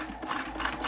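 A vintage Singer 328k sewing machine stitching through a thick seam of many muslin layers, a brief close whirring buzz with rapid needle strokes.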